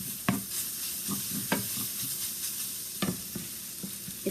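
Eggs frying in a pan on a stovetop, a continuous bright sizzle with several sharp scraping or stirring clicks spaced through it, close and moderately loud, with no voices.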